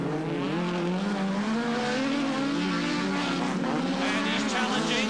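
Rallycross cars including a Ford Fiesta and Escort race at Lydden Hill in 1980, engines droning and wavering loudly and continuously as they power around the circuit, with commentary over them.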